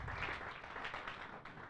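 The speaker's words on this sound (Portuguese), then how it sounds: "Dá-lhe um aplauso nesta manhã, porque és um chamado de Deus" Church congregation applauding during a morning service, a steady wash of many hands clapping together throughout, fairly faint and without anyone speaking over it.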